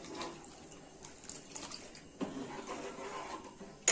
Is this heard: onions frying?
no